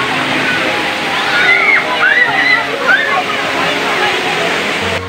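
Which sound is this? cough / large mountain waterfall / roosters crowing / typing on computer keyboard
large mountain waterfall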